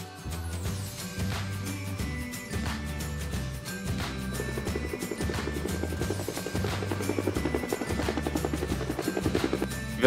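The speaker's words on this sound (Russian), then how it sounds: "Вертолет." A helicopter flies steadily with a continuous rotor thump and engine drone that stays loud and close throughout, set against light cartoon background music.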